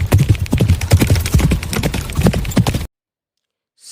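Cartoon donkey fleeing in a sound effect: rapid, loud clip-clop hoofbeats in a steady galloping rhythm, close and alone, cutting off abruptly into silence before the end.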